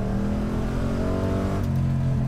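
A car revs and accelerates on a practice course during stunt driving training, the engine tone rising steadily and staying loud and close throughout, with no talk.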